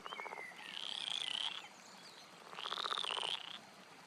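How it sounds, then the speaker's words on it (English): A frog croaks in two long pulsing calls, each a rapid train of rasping clicks lasting about a second, sounding close and fairly loud with no talk over them. "That's a frog, I think."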